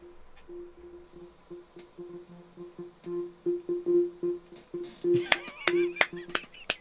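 Lanyard barcode data converted to audio, a string of short beeping tones in an uneven rhythm, joined near the end by sharper bursts and clicks, moderately loud.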